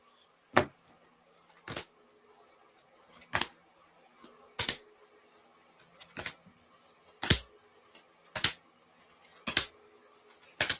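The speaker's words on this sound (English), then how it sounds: "One more shuffle." Tarot cards are shuffled in a run of crisp, separate riffling snaps, about ten sharp card slaps spaced a second or so apart, quiet and close in a still room with no talking.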